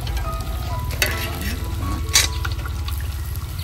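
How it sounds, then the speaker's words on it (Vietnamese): Fish frying in hot oil while hot oil is ladled over it: a steady, close sizzle with two brief bursts of splashing and crackling and no talk. "mình sẽ tưới lên con cá mình chiên cho nó vàng giòn nha các bạn"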